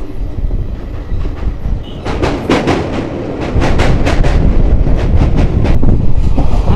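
The 18044 Bagha Jatin Express from Bhadrak to Howrah runs on rails near Kolaghat, with a loud, continuous rumble and a steady run of close clickety-clack wheel beats over the joints.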